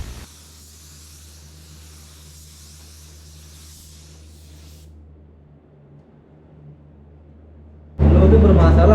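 A spray gun with a 1.4 nozzle lays gloss varnish on a motorcycle, giving a steady close hiss for several seconds that then fades to a low hum, before a sudden loud burst of noise at the end.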